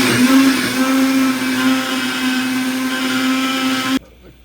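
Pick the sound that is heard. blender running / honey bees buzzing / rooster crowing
blender running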